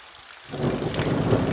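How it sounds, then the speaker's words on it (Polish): Heavy, steady downpour of rain beginning abruptly after a brief quiet moment, then a dense, loud broadband roar of water falling from above. "No, 10 minut deszczu. Porządnego. Wszystko z góry leci."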